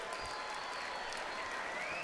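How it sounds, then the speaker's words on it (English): Crowd applause fills a cage-fighting arena after a 15-minute bout between two fighters, steady and dense throughout with a faint whistle rising near the end. "how about a nice round of applause for both fighters?"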